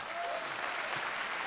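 Audience applause rolls through an arena at a DEEP mixed martial arts fighting event in Japan, a steady broadband wash of many hands clapping at moderate level, sustained and even throughout with no voices standing out.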